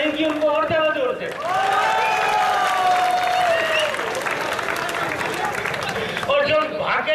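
A crowd at the closing of a unity run at IIT Kharagpur applauds the runners, steady clapping and cheering under a loud voice on a public address system, with a brief lull near the end.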